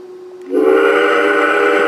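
A model train whistle from an MTH DCS-controlled locomotive blows one steady, loud, sustained tone that starts abruptly after a quiet moment and holds to the end, with no talking.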